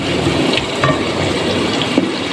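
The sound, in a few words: pouring half a glass of water onto potatoes for pulao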